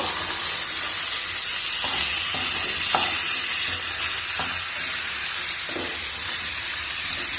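Ginger garlic paste with curry leaves fries in a pan, a bright continuous sizzle and hiss with occasional spoon scrapes while being stirred, close and loud.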